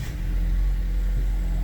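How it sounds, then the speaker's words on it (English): A Ford Escape engine starts and settles into a low, steady rumble close by, with no talk over it. "Start the engine."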